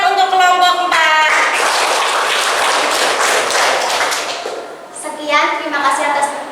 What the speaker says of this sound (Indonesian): beri tepuk tangan untuk kelompok 4